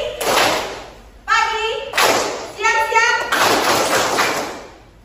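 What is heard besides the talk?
rhythmic hand clapping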